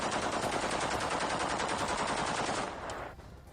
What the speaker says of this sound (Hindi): जब विद्रोही राष्ट्रपति भवन में दाखिल हुए हैं तो फायरिंग करते हुए ये अपनी फतह का जश्न मनाते दिखाई दे रहे हैं।